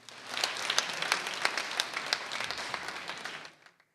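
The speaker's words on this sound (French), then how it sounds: "Est-ce qu'on peut applaudir une fois encore pour le ballet Ganlevo, s'il vous plaît?" An audience applauds the Ganlevo ballet troupe at an anniversary event for Atlantic FM, with distinct individual claps in a brisk, uneven patter that fades out abruptly after about three and a half seconds.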